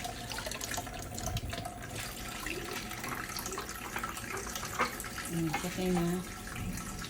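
Water running from a kitchen tap while a child washes a glass at the sink, a steady low wash throughout with scattered clinks, under brief voices.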